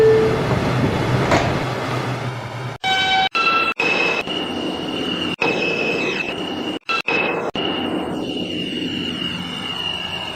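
An R142 subway train on a Wakefield-bound 2 line run hums and rumbles steadily, with rising motor whine, repeated abrupt dropouts and clacks, and squealing wheels.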